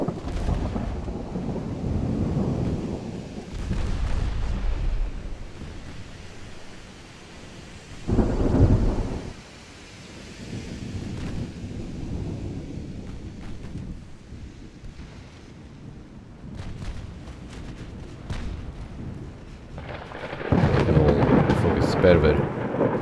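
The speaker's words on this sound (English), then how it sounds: "It's a storm even." A game thunderstorm in Ultimate Admiral Dreadnoughts, set during a naval battle off Crete: steady rain and wind hiss under repeated deep rolling thunder, with a loud crack midway and a heavy, sustained rumble near the end.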